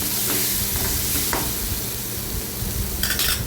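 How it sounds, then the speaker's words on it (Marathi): Masala sautéing in oil in a kadhai, a constant loud sizzle with a few soft stirring scrapes and a brief rattle near the end. "व्यवस्थित मिक्स करून चांगलं मसाला आपला परतून घ्यायचा आहे"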